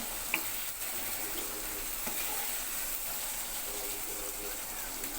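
Spices, turmeric, chili, ginger and cumin, sizzling in a pan while being sautéed bhuna-style, a steady soft frying hiss that continues throughout, with a few faint clicks and stirring sounds.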